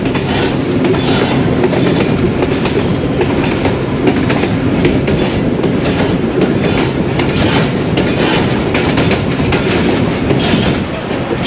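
The 122DN Ravi Express runs on the track at around 40 km/h after leaving Sheikhupura, filling the space with a loud, continuous rumble and dense wheel clatter from start to end.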